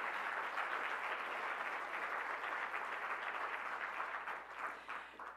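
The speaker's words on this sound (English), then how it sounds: "How about a round of applause?" Lecture audience applauding event organizers in a hall, dense steady clapping from many hands that holds level, then thins slightly near the end.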